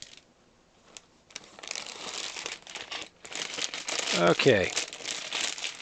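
Crinkling plastic bag of parts for the LEGO Harley-Davidson Fat Boy set 10269 being opened, a close, busy rustle that swells and continues in bursts, with a brief spoken word partway through.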